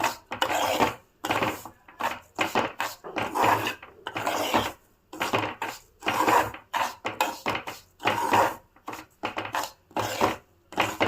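Roasted semolina with cardamom powder stirred in a pan gives irregular scraping and gritty rasping strokes in short bursts separated by pauses, close and moderately loud.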